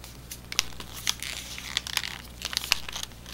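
A sheet of paper folded down into a paper football, with close, sharp crinkles and crisp creases coming in quick irregular bursts, no talking.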